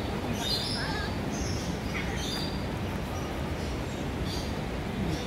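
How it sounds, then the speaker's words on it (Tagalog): Birds in a netted aviary chirp and tweet steadily over a constant rushing ambient background, several calls scattered throughout. "Ingay ng mga ibon, diba?"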